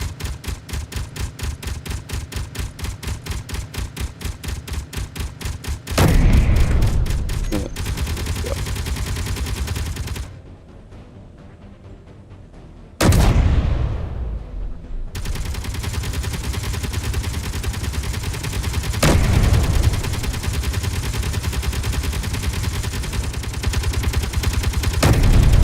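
Cannon fire in the Space Engineers video game: long stretches of rapid, evenly spaced shots, loud and close, broken by a brief quieter gap and a few heavier single blasts.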